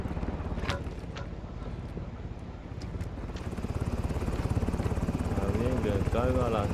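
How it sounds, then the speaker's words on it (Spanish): Helicopter in the video game Call of Duty: Modern Warfare II, a steady rotor throb with engine drone that grows louder and nearer over the seconds, with a few brief gunfire-like cracks and game noise mixed in. "Helicóptero en posición para el depósito."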